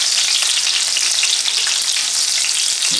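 Chicken pieces for a crispy chicken sandwich frying in oil, a loud, close, unbroken hiss and crackle that holds steady throughout, with no one speaking.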